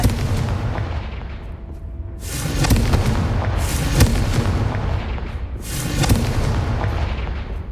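Confringo fire spell explosions in the video game Hogwarts Legacy: three heavy booming blasts a couple of seconds apart, each with a rushing tail, over a constant low rumble.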